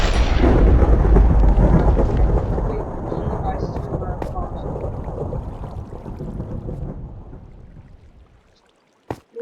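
A loud, near rumble of thunder during a storm swells at once, then rolls and fades away over several seconds with faint rain beneath, and a short knock sounds at the very end.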